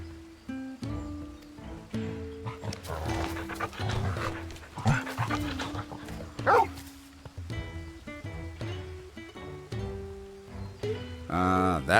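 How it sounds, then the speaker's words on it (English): Torgal, the wolf pup from Final Fantasy XVI, barks, pants and yips in short bursts over a swelling orchestral game score, with occasional whimpers close up. "This is Torgal, a wolf pup raised in the duchy."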